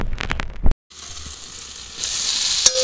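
Pumpkin and mixed vegetables sauté under a lid in a pan for a Bengali pumpkin ghonto, giving a steady close sizzle and hiss that briefly cuts out, then returns brighter and louder with a small clatter near the end.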